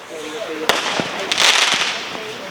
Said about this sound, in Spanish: Aquí seguro está rompiendo el seguro de los cohetes.